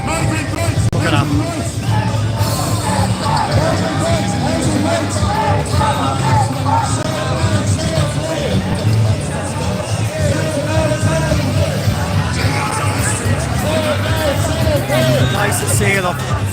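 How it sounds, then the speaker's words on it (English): Crowd gathering outside the Custom House, a steady dense babble of many voices with occasional shouts and whoops, continuous and close throughout. "Crowd's getting bigger."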